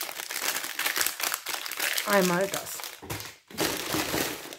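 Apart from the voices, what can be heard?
plastic sticker packaging bag crinkling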